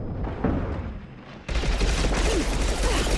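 Gunfire in Mass Effect 2 starts as muffled distant shots, then breaks into a loud, close barrage of rapid bursts and impacts that carries on to the end.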